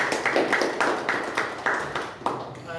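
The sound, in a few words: audience applause for a story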